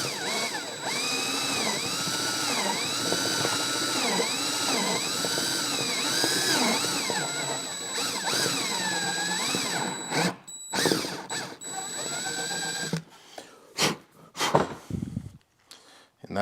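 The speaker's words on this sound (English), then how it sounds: "we're just going to start drilling very carefully" A power drill bores a hole through the trunk lid of a 2021-or-newer Honda, its close, loud whine rising and falling in pitch for about ten seconds before stopping, followed by a few handling clunks and knocks.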